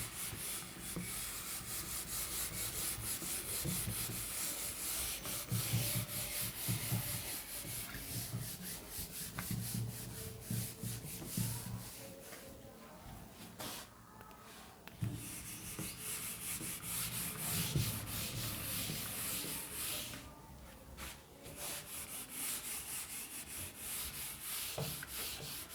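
A board being rubbed clean by hand, a continuous close scrubbing and brushing sound with a few brief pauses. It goes on without speech.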